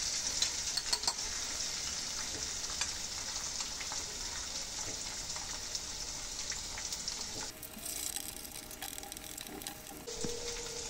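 Beaten eggs frying in a pan of onions, a steady soft sizzle running throughout with a few faint clinks and scrapes, quiet and close.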